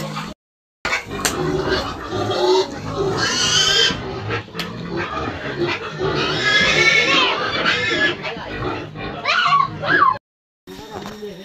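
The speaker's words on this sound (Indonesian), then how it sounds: "Babi ini lapar gak apa?" A hungry pig squeals and grunts in loud, harsh bursts, repeated across the clip with short breaks, amid household commotion in a Papua village setting.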